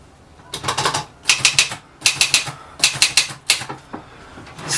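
Erika 5 manual typewriter in operation, bursts of sharp mechanical key strikes in quick groups of three to five clacks, close and loud, separated by short pauses.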